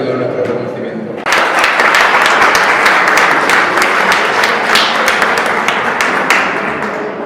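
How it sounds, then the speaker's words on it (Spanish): Applause breaks out at a club event in a Zaragoza hall, starting suddenly after a voice and holding as a loud, dense clatter of many hands, easing slightly toward the end. "yo creo que es la que se merece todo el aplauso y todo nuestro reconocimiento."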